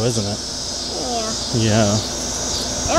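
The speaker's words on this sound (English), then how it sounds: "That's the sound of cicadas." Cicadas in the trees in a hot outdoor setting produce a loud, steady high-pitched drone throughout, while people talk over it.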